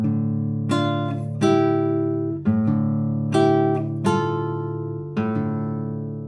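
Classical guitar plucks harmonized thirds above ringing open bass strings in a slow Habanera study, each pair of notes sounding clearly and close, sustaining and decaying between plucks without any voice.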